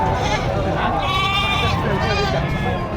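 Goats, including two bucks, bleat repeatedly over a steady background of people talking at a livestock auction in Padre Garcia, Batangas, their wavering cries drawn out and fairly close.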